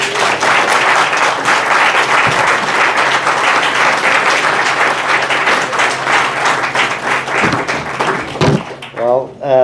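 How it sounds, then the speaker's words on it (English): An audience at an outdoor wall mural dedication claps steadily for several seconds, dense applause that thins out near the end. "please join me in a round of applause for our Councilman John Lee."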